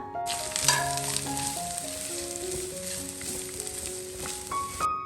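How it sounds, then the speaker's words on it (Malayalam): A continuous sizzle of grated coconut roasting in a pan, heard up close, with soft background music tones running underneath. "തേങ്ങാ ചിരുവിയത് കൂടെ ഇട്ടിട്ട് നന്നായിട്ടൊന്ന് വറുത്തെടുക്കാം"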